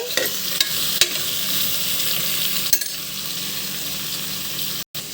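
Vegetables in oil are stirred inside a cooker for sambar, giving a steady close sizzle of frying with a few sharp clicks and scrapes from the spoon against the metal.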